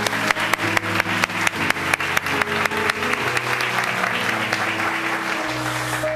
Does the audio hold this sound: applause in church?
yes